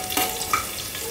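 Garlic, ginger and cumin frying in ghee, a short, close, soft crackling sizzle with a couple of faint clicks, quiet and without voices.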